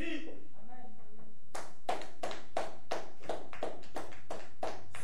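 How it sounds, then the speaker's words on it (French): A church congregation claps in a steady rhythm, about a dozen sharp, close, loud claps following a brief stretch of voices at the start. "Acclamons Jésus."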